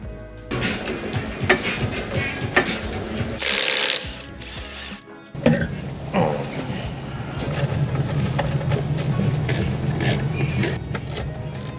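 A ratchet working on the wheel of a BMW M Coupe during disassembly, giving bursts of rapid clicking with short pauses, a brief loud hiss, and metallic clanks and handling noise close by.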